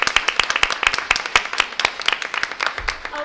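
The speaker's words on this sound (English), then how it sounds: "So one more round of applause for all of our tremendous staff." Audience at a school board of education public meeting giving a round of applause, a burst of scattered hand claps from a modest crowd, fairly close.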